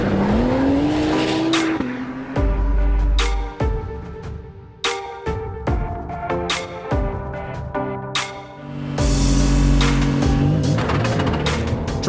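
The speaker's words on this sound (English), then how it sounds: "driving a race car, especially at race speed, isn't particularly easy" An Acura NSX GT3 race car drives at speed, its engine loud and near, revving up and dropping sharply again and again between gear changes, with no talk.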